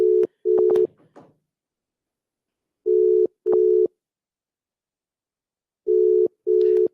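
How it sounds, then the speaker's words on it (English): Telephone tones sound for an outgoing call: three pairs of steady, evenly spaced beeps about three seconds apart, loud and clear with silence between them and no talking. "Let me call a caller who tried to call me."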